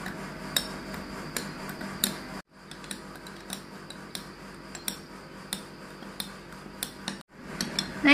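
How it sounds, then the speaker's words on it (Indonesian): Herbal stamina drink ingredients and a pinch of salt stirred together in a glass, with a spoon clinking and ticking against the sides in a steady, light rhythm over faint background hiss, briefly pausing twice. "ketiga bahan ramuan kuat tahan lama ini saya akan aduk menjadi satu supaya"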